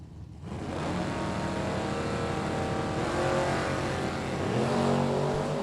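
Drag race between an Oldsmobile Calais and a Dodge Challenger, engines roaring in a loud sustained howl that climbs through the run, with rising revs near the end and no talking in between.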